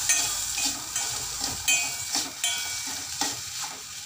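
Washed poha with a pinch of salt is sautéed in a pan, a soft sizzle punctuated by rhythmic spoon scrapes and stirs every half second or so, close and without talk.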